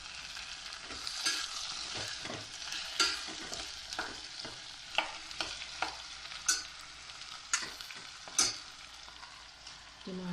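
Okra (bhindi) frying in a pan, with a steady sizzle broken by repeated scraping and clattering stirs from a spatula, close and fairly quiet, with no talking.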